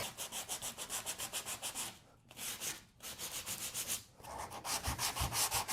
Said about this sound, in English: run the edge of the sandpaper right up in the crack